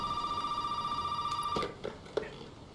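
A telephone rings in the video game Resident Evil 7 with a steady electronic tone for about a second and a half, then cuts off, followed by a few dull thuds and faint room noise.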